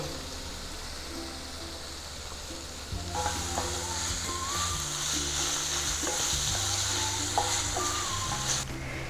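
Ghee poured into a hot pan with chillies while making paneer burji, a steady close sizzle and frying hiss that swells after a few seconds, with faint clinks and stirring.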